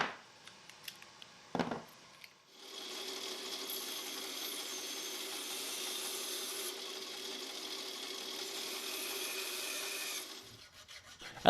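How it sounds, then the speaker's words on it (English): Hacksaw cutting the excess off metal handle pins on a Damascus go-mai kitchen cleaver handle, a steady, continuous rasping saw noise lasting about eight seconds after a few light knocks, close and fairly loud. "I like to cut the excess off the handle pins with a hacksaw"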